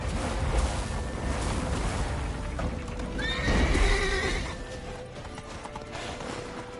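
Hooves pound continuously while a horse lets out a loud, high whinny midway, all within a thick, rumbling soundscape in The Witcher 3.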